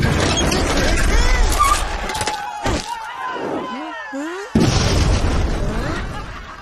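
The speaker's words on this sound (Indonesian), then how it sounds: "Ada meriam buluh." A bamboo cannon in the Upin & Ipin cartoon goes off in loud booming blasts and pops amid busy animated sound effects, with voices mixed in.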